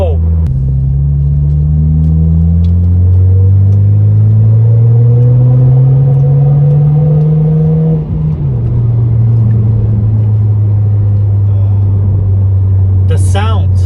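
A Nissan 370Z engine, loud and close, rising steadily in pitch as it accelerates through a gear, a brief dip at a shift, then a lower steady drone; speech is detected but no words come through.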